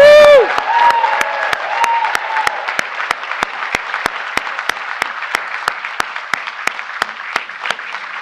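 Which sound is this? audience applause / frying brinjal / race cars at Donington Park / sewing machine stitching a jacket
audience applause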